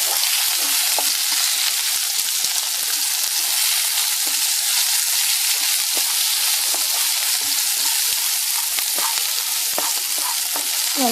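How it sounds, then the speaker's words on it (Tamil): Onions sautéing in a pan with mustard seeds and curry leaves for a kovakkai (ivy gourd) stir-fry, a steady bright sizzle and crackle throughout with occasional spatter pops, close and uninterrupted by speech. "நல்லா பச்சை வாசனை போகிற அளவுக்கு வெங்காயத்தை வதக்குவோம்"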